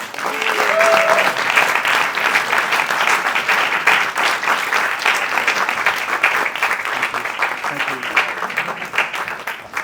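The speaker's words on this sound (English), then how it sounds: "give them a round of applause" Audience applause after a cultural performance at an evening event: a steady, full round of clapping from a crowd, continuous and even for about ten seconds, with a brief faint tone near the start.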